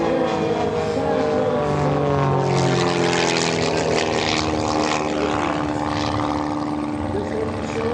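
A 230-horsepower propeller airplane roars past at full power during an aerobatic display, its engine drone loud, steady and continuous with a shifting pitch as it passes.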